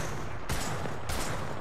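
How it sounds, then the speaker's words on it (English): Video game gunfire: two heavy, sharp shots about half a second apart, close and loud over a dense rumbling background, with no talking. "They're shooting each other."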